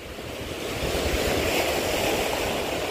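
Sea waves wash up onto a rocky shore in a continuous broad roar of surf that swells slightly and stays close and loud throughout.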